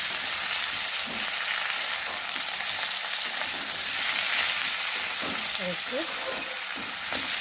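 Potatoes and raw banana fry in a pan with a constant sizzle, while a spatula scrapes and clinks through it and faint speech-like sounds come through in places.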